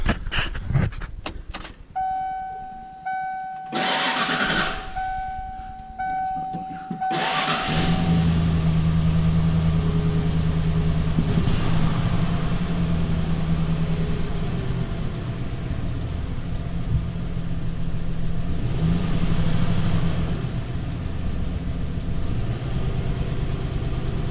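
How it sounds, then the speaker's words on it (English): A 1995 Ford F150 4x4 truck cranks over after chimes and a dashboard warning tone, fires up, and holds a steady, deep idle with slight rpm changes, close and constant. "we will get in the truck, fire it up, and see if it makes any difference"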